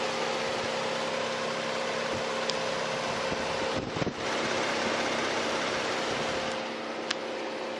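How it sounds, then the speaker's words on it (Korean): A used Hyundai Grandeur IG sedan engine idles close by with a smooth, steady hum and faint whirring. There are no voices, and the tone stays even throughout. "바로 엔진 소리 한번 들려드릴게요."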